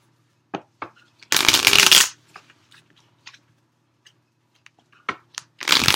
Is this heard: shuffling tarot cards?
yes